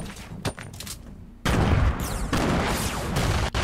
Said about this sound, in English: Okay, nade spam coming in.